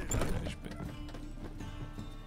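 Horse hooves clop in the Witcher 3 video game, a short run of hoofbeats with a brief whinny-like sound over game ambience and music.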